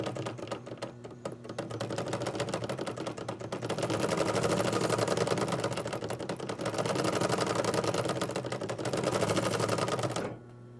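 A Singer 114W103 chain-stitch embroidery machine runs steadily, filling in a design with moss stitch, its rapid mechanical clatter close and continuous for about ten seconds before stopping abruptly.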